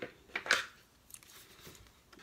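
A couple of quick, crisp scissor snips cut through paper up close, then fade into quiet rustling.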